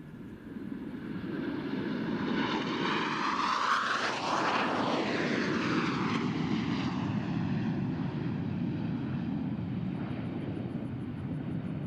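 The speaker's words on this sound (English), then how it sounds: "Blue Angels 5 and 6 are approaching the flight line at 400 miles per hour" Blue Angels jets at the NAS Oceana Air Show approach at 400 miles per hour, a roaring jet engine that swells to a loud peak as they pass and then trails off into a long fading rumble.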